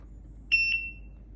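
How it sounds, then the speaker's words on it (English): A Begode EX electric unicycle gives one short, clear electronic beep, a high tone with a brief double pulse, as its power drains, against a quiet background. "the light went on for a little while, it made a beep, and then it died on me"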